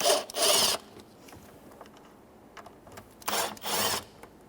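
A T25 Torx screw on the air filter cover of a 2019 Mercedes-Benz GLC 300 being loosened, two pairs of short whirring power-driver bursts separated by quiet handling noise, close up.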